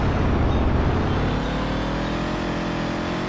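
A powerful car driving in a video game, its engine roaring loud and close throughout, with the tone climbing steadily as it accelerates.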